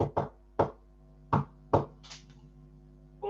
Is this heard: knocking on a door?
yes